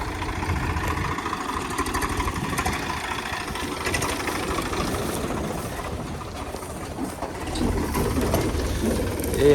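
A Swaraj 275 tractor at work on a maize field runs with a steady mid-pitched mechanical drone and rattle, close by and continuous with no talk.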